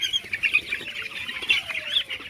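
Young broiler chickens in a poultry shed of about 2,200 birds, a dense chorus of overlapping high chirps and peeps heard steadily with no speech.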